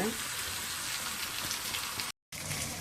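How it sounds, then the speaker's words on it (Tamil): Fish frying in hot oil in a home kitchen, a dense steady sizzle and crackle heard close and loud throughout, with one brief dropout near the end. "இது எல்லா மீனும் பொரிச்சு எடுத்துட்டு பார்க்கலாங்க."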